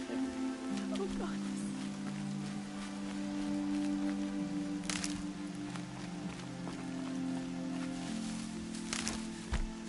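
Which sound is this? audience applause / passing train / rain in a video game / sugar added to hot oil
rain in a video game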